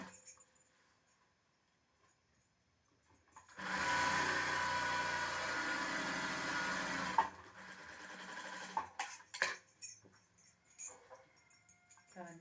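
A sewing machine stitches a blouse in a steady whirring run of a few seconds, then stops, followed by scattered handling clicks and rustles of fabric, heard close in a quiet room.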